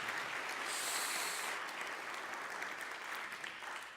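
An audience at a dialogue conference in a Vienna hall claps steadily for several seconds, a dense, even wash of applause heard from some distance that fades slightly toward the end.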